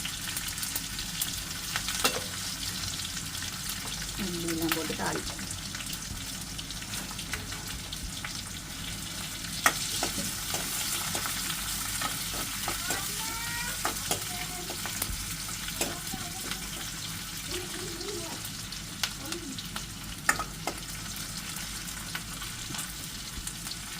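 Mustard seeds, cumin, onion and green chili frying in oil, a loud continuous sizzle with spoon scraping and stirring clatter and occasional sharp pops throughout.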